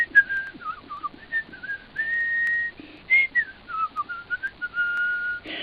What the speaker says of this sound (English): so I'm just going to do a little whistling.